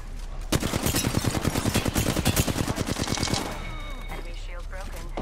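Rapid gunfire in the Apex Legends video game rattles out as a dense, loud burst of shots lasting about three seconds, then gives way to quieter game sounds.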